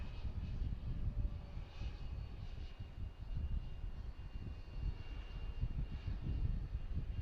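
Cargo airplanes take off at Harrisburg airport, a steady distant jet-engine roar with rumbling low end that swells and eases over several seconds, with no voices.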